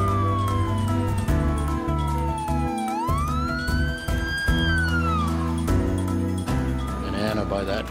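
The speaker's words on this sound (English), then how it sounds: "Ambulances are dispatched from two municipalities" A loud, close ambulance siren wails, its pitch sweeping down and then rising and falling again over a sustained droning background.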